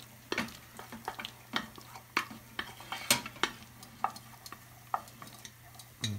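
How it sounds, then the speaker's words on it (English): A wooden spoon stirring oil-coated pasta in a pot, making repeated sharp scraping knocks at an irregular rhythm over a faint steady hum, close and fairly quiet. "I'll just take a dash of oil and just coat the pasta real quick"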